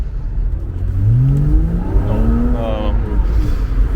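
Flat-six engine of a Porsche Boxster 987 convertible revving hard, rising harmonic sweeps climbing in pitch as it accelerates, loud and close with a steady roar underneath.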